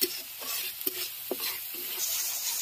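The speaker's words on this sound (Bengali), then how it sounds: "সুন্দর করে নাড়তে হবে।" A spice paste of ground chili fried in oil for a home-cooked beef curry is stirred in a pan: brief scraping strokes over a low, close sizzle.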